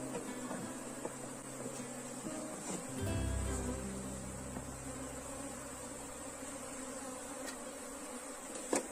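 Honeybees swarm around an opened hive, a steady, close buzzing hum that fills the whole stretch with a brief deeper drone near the middle.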